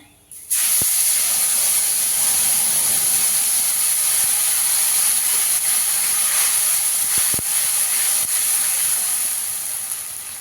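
Ginger, green chili and tomato paste go into hot oil with a loud, sudden burst of sizzling. It becomes a steady, close hiss that lasts several seconds, with a few clicks, and fades slightly at the end. No one talks.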